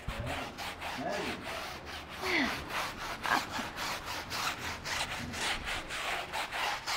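A dirty car tire gets scrubbed with a cleaning product, steady rhythmic rasping brush strokes repeating close and loud for the whole stretch.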